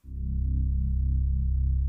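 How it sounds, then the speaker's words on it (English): Synth bass preset in FL Studio with its filter cutoff rolled down. A single deep, dark note swells in quickly and holds steady for about two seconds with a slight pulsing wobble, and there is no talking. "I have this preset called 97 bass rolling 60s"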